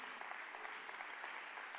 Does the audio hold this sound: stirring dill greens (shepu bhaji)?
no